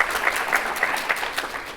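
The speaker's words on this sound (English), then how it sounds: "Big round of applause for Erica" Audience applause at a school district State of the District event, a dense burst of many hands clapping at once, loud and sustained for the whole stretch.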